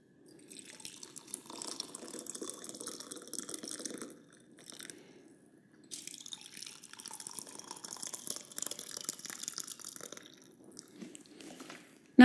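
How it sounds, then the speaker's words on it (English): Water runs into beakers for a thermal insulation practical, trickling and splashing in two quiet stretches separated by a short pause, with faint drips in between. "So, all I need to do now is fill up my beakers with water."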